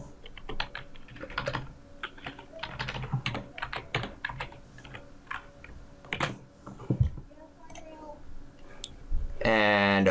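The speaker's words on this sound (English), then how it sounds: "now if I were to type this out in a system.out" Rapid clicking keystrokes on a computer keyboard come in bursts while a person talks over them, ending with a short louder tonal sound.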